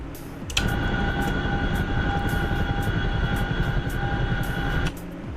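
An A-10 jet aircraft flying in a video game makes a loud, steady engine roar with a sustained high whine. It kicks in abruptly after about half a second and holds evenly for over four seconds before dropping back.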